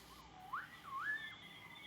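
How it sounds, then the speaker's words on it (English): A faint, wavering whistle sliding up and down in pitch, eerie and continuous, with a soft hiss behind it and no voices. "The whistling noise was coming from inside the polar station."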